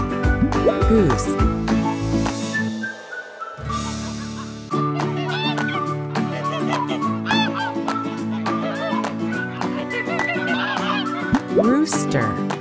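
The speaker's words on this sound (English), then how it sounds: "Goose." A goose honks in a few short nasal calls mixed with other farmyard fowl sounds, set against cheerful children's music that carries on throughout.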